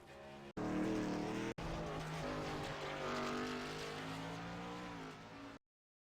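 A race car spins out on a racing track, its engine roaring loud and steady with rising and falling pitch for about five seconds, with a brief cut near the start.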